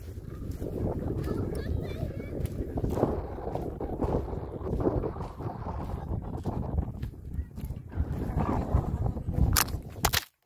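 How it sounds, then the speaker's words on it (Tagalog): Strong wind buffets the microphone on a muddy Crosby Beach at low tide, a loud, steady rumble with gusty surges throughout and faint voices underneath. "Super windy."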